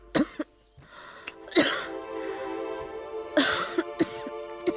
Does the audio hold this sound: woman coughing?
yes